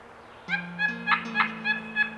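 A wild turkey gobbler gobbles repeatedly in rapid rattling bursts in the Pennsylvania mountains, fairly close and clear, over a low steady hum in the background.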